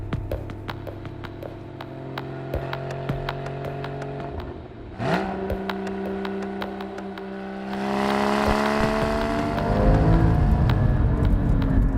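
A Porsche Cayman GT4 engine heard from inside on a road drive, with the revs climbing in steady harmonic sweeps, a brief dip for a gear change, then a louder, fuller pull, with no talk.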